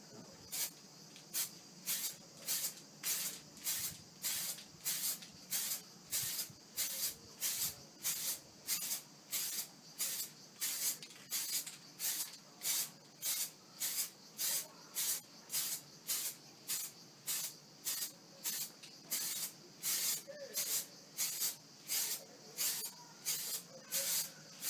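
Short repeated bursts of spray paint hiss onto fiberglass clone trooper armor, about forty evenly spaced sprays in a steady rhythm, close and fairly loud with quiet gaps between.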